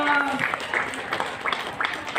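An indoor audience at a disability-inclusion festival event claps steadily for a couple of seconds, with scattered voices and chatter mixed under the applause.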